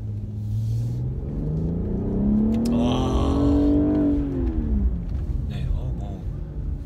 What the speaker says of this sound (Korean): 스포츠 배기음으로 웅 하는 소리가 확실히 커지고